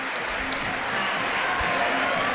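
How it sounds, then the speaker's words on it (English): A crowd at a bouldering World Cup final cheers and applauds, a dense, steady wash of clapping and voices from a large audience that holds at full strength for the whole moment. "Crowd goes absolutely wild."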